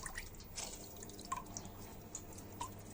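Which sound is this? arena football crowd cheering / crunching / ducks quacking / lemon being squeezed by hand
lemon being squeezed by hand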